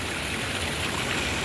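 Rainwater gushes out from under a building's foundation wall during heavy rain in a hill village, a dense, steady rushing wash heard close and continuous.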